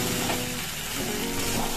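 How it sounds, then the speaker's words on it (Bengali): Fried potatoes and green chilli paste sizzle in a pan while being stirred, with a steady, dense frying hiss close up and no talking. "এখন আমি ভাজা আলু আর কাঁচা লঙ্কা বাটা এই যে দিয়ে দিয়েছি, নাড়াচাড়া করে তারপরে গরম জল দেব।"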